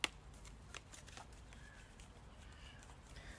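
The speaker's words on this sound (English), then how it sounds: "Let's pull a card for you." Tarot cards shuffled by hand, a short soft riffle and flutter of cards, quiet and close, with faint clicks at the start.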